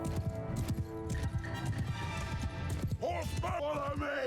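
Rapid hoofbeats of horses galloping in the video game Mount & Blade II: Bannerlord, a steady clattering rhythm under a voice, followed by a horse neighing near the end.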